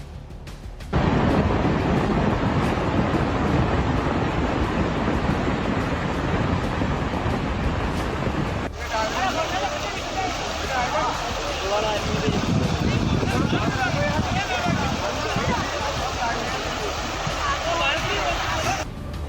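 Roaring flood water and crashing waves form a dense, loud, continuous wash with wind buffeting the microphone, while a voice talks over part of it.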